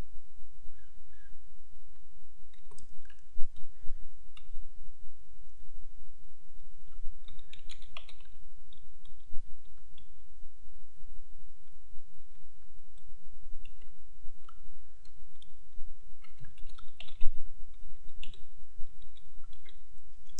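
Someone types a spreadsheet formula on a computer keyboard: soft, scattered key clicks and occasional sharper taps come over a steady low background hum.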